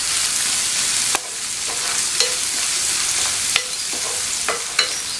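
Curry leaves sautéing in hot oil with ginger garlic paste, a steady broad sizzle with a few soft stirring scrapes and clicks of a spoon against the pan.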